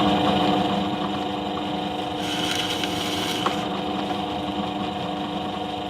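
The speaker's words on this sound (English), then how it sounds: "I'm just going along and cutting 12mm holes with this Forstner bit" A power drill runs steadily, boring 12mm holes in scrap wood with a Forstner bit: a continuous whirring motor drone with a slight rise and wavering midway, close and fairly loud with no talking.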